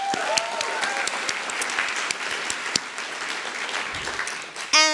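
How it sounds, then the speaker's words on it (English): Audience applause for the graduating class at a school of drama graduate recognition ceremony, a sustained round of clapping from many hands, fairly loud and even, ending abruptly as a voice comes in. "Let's give them a round of applause."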